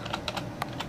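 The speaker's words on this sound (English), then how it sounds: "Now type in, like, if you want Darth Vader's breath," A short burst of typing on a computer keyboard, several distinct clacking keystrokes in quick uneven rhythm, close and moderately loud with no voices.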